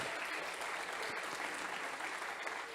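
Church congregation applauding during a sermon, a dense, even roar of many hands clapping that fills the whole clip.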